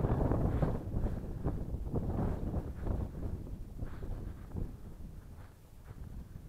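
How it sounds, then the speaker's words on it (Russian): Wind gusts across a microphone at a riverbank during a cold evening of fishing on the Moksha River, a steady low rumbling buffet that swells and eases over the whole stretch, with no voices. "Ветер, холодно."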